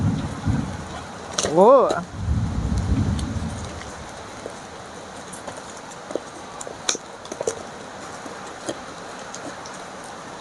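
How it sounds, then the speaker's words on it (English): Rain falls steadily outdoors while a low rumble of thunder rolls in early and fades. The sounds stay faint and in the background, and a person briefly exclaims over them. "It's raining here right now."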